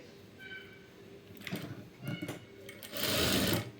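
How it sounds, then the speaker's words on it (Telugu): Sewing machine stitching a shape belt on cloth, short bursts of whirring needle runs separated by pauses, the last run longest and loudest, close by and alone. "ఇలా నీట్గా సదిరేసుకుని స్టిచ్ వేసుకోవాలి"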